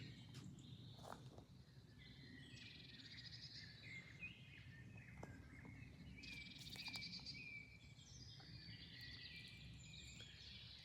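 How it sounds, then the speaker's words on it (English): Birds sing and chirp among tall forest trees near Oberarnbach, Germany, shortly after rain: overlapping calls and trills from several birds over a low steady rumble, moderately near, with no voices. "listen to the sound of all the birds in these great,"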